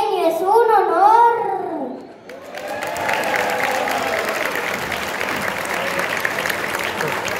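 Audience applause for a child reciting a poem at a community talent celebration, a sustained broad wash of clapping that begins after a voice is heard speaking.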